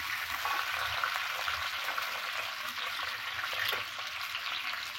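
Three slit green chillies frying in oil in a pan, a steady broad hiss of sizzling that holds evenly throughout with no talk over it.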